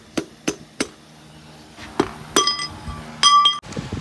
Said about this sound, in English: with your piston ring or your piston hammer, tap it in